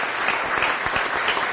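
Audience at a Boynton Beach city commission meeting clapping for public works staff, a dense, steady round of applause from a room full of hands, sustained and fairly loud throughout.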